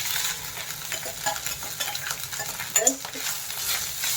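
Rice and fried garlic sizzle in a pan as a spoon stirs them, a steady close hiss with soft scraping strokes and one brief clatter, while a voice speaks a single word.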